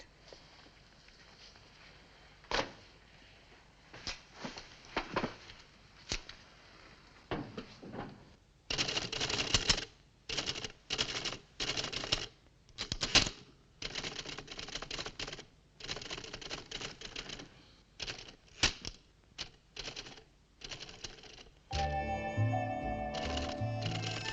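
Rapid mechanical typewriter keystrokes clatter in uneven bursts with short pauses, ending in a denser run of key strikes and a carriage-like ratchet; the sound is close and fairly loud, with no talking.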